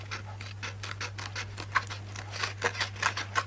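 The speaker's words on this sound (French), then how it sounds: "je prends mes ciseaux." Close, repeated snips and rasping cuts of scissors working through paper in an uneven rhythm, over a low steady hum.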